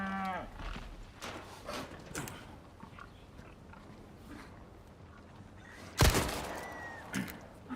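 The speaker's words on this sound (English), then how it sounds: "I'm not attacking the cows." Cows in the Forza Motorsport video game moo in several drawn-out low calls, with a louder burst of noise near the end, heard alone without talk.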